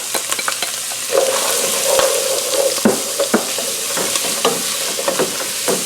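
Carrot, celery and onions sautéing in olive oil in a pot, a close steady sizzle broken by repeated clacks and scrapes of a spoon stirring against the pot.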